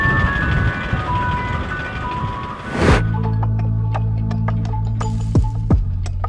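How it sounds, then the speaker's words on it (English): Ice cream van at Gris Gris, Mauritius, first masked by a rushing blast of wind, then its tinkling chime melody rings out clearly with bright repeating notes outdoors. "Ah, the soothing sounds of the ice cream van."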